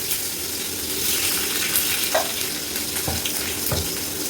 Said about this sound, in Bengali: এবার আমি এই তেলের মধ্যে প্রথমে কয়েকটা কাঁচা লঙ্কা দিয়ে দেবো